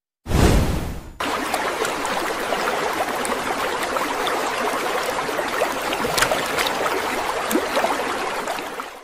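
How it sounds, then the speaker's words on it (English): AI-generated rain falls on water in a gutter around a small paper boat, a dense, steady patter and gentle splashing that starts with a louder burst and then runs on evenly with no voices. "It creates raindrops hitting water, gentle splashing, even subtle audio cues suggesting the boat's fragile paper construction."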